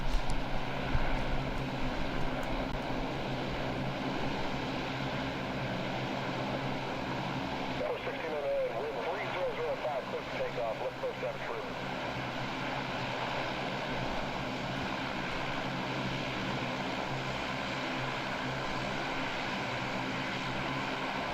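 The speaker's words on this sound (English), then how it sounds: "I live next to East Midlands Airport. That's why I can hear the aircraft outside." A steady, far-off aircraft engine drone hangs outside a home next to East Midlands Airport. It holds a constant low rumble for the whole stretch, with a faint rise and shift partway through.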